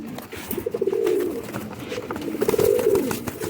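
Shekhon wale or faqeer gull cross pigeons coo and scuffle among themselves, a steady layered cooing that swells twice with brief wing-and-body scuffling over it, fairly close and with no one talking.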